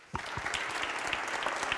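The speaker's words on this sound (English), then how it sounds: "If you could join me in a round of applause for him, please." Applause for a masterclass speaker starts abruptly and carries on as a close, steady patter of many hands clapping, with a few louder individual claps standing out.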